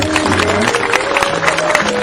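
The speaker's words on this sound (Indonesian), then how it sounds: "Tepuk tangan dulu semua" Audience applause at a Javanese religious and cultural gathering in a mosque setting, steady dense clapping mixed with crowd murmur and a sustained musical tone underneath.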